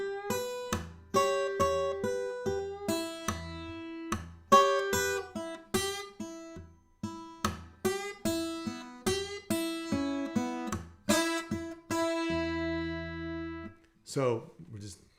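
Acoustic guitar plays the opening line of a blues song, a picked blues phrase with bass notes and plucked treble fills in a steady rhythm, close and clear, with no talk.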